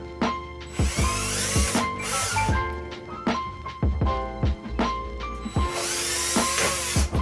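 A power drill whirs in several short bursts, its pitch rising and falling as it bores holes into a pumpkin, with pauses between runs.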